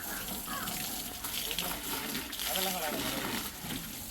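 Water poured from a bucket over a 1995 Maruti 800 car, a continuous rushing splash of water at close range, with people talking over it.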